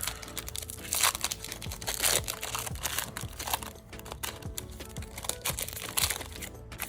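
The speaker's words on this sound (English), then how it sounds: "I'm like a special type of person here trying to get these packs open" Foil Pokémon Lost Origin booster packs being torn and opened by hand, with close, continuous crinkling and crackling of the wrappers and small sharp rips throughout.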